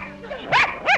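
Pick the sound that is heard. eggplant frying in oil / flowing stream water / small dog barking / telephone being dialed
small dog barking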